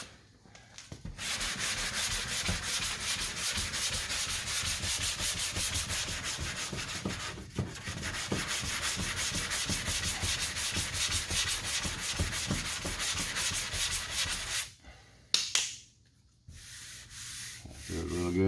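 Bondo body filler is sanded by hand along a car body line, rapid rhythmic scraping strokes close up for about fifteen seconds, then a brief pause and faint rubbing.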